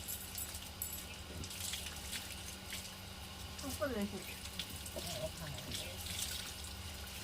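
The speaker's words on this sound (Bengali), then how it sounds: "গায়ে ঠান্ডা জল পড়ছে" Cold water pours and splashes continuously over a pet dog named Bhulu during a bath, a steady close rush of water with faint background voices.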